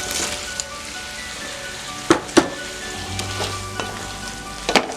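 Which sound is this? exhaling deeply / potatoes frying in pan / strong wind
potatoes frying in pan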